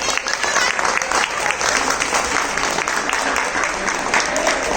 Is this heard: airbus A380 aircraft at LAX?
no